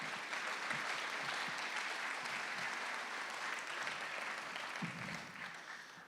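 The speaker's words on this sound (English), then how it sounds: "a round of applause for Steve" Sustained applause from an audience at an evening remarks event at a riverfront museum, steady and dense clapping throughout with no voices over it, tapering slightly at the end.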